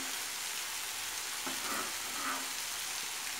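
Onion and garlic pieces frying in hot oil for a jackfruit curry, a steady soft sizzle with faint crackles and a brief stir in the middle, no voices.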